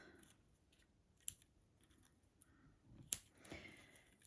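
Scissors trim small cardstock pieces for a Christmas card cover plate, giving two sharp, isolated snips a couple of seconds apart, faint and close against a quiet room.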